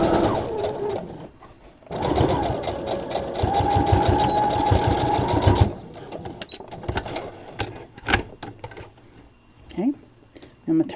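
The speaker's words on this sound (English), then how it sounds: "I'm going to sew right on the edge of that, forward, back stitch, keeping your fabric together" A sewing machine runs in one steady, close, rapid mechanical burst of several seconds while stitching along a fabric edge, forward and back. Quieter handling clicks and rustles follow, with some talk.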